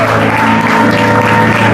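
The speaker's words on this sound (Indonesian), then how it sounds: "Tepuk tangan yang paling luar biasa bagi Tuhan" Loud congregation applause at a Sunday church service, a full crowd clapping with cheering and voices mixed in, under a steady tonal hum like music or organ.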